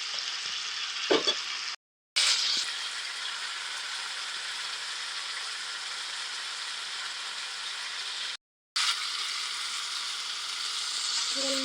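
Beans simmer with smoked meat and sundry pork in a pan, giving a steady, even sizzle that runs continuously and is broken twice by brief moments of silence.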